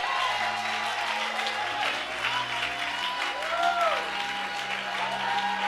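A church congregation applauds to acclaim the Lord, a sustained wash of clapping and crowd noise that stays loud and even, with voices and gliding tones sounding over it.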